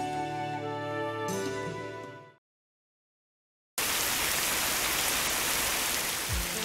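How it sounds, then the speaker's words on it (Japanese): A sudden heavy rain scene effect from the video game Fate/Grand Order bursts in after a short silence, a loud, dense steady downpour hiss that follows a stretch of music. "と張り切ったところでいきなりの大雨なのであった。"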